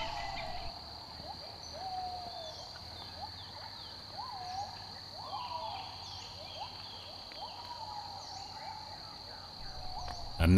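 A Buffy fish owl at Khao Yai National Park, Thailand, gives a repeated series of hoots at a steady pace over a constant high insect drone in forest.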